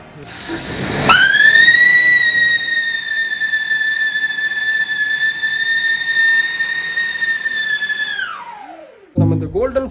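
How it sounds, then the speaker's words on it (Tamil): A whistling fountain firework lets out a loud, steady shrill whistle that holds for about seven seconds and then falls away, heard outdoors at close range, with a short burst of noise at the end. "விசில் அடிச்சுக்கிட்டே புஷ்வானம் வரும்"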